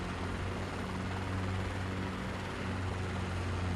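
In a flight simulator game, a CH-47 Chinook helicopter's engine drones as it winds down, a steady low rumble with a constant hum that stays even and fairly loud throughout.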